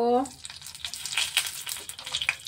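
A bay leaf and dried red chillies hit hot oil for a Bengali chicken rezala, giving a bright, crackling sizzle with popping bursts that follows a brief tonal clink, close and moderately loud.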